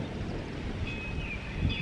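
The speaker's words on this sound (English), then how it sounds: "It's so windy today." Soft steady wind buffeting the microphone in a North Carolina garden, a low rushing rumble throughout with a faint high whistle near the end.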